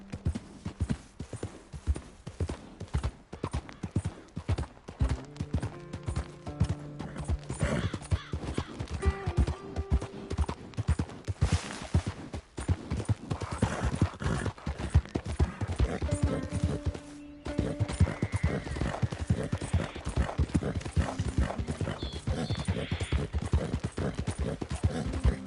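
Horse hooves clip-clop in a rapid, regular rhythm in the video game Red Dead Redemption 2, loud and close, with occasional whinnies and snorts over the steady trotting.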